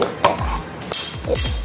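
A metal tablespoon clinks and scrapes inside a container of baking soda in a brief run of light, close taps with no talking.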